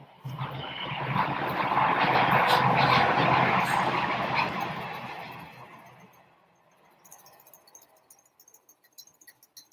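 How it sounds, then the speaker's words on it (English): A bamboo whisk scrapes briskly through matcha tea in a bowl, a steady loud swishing for several seconds that then fades into softer, scattered clicks and taps. "Whisking it up."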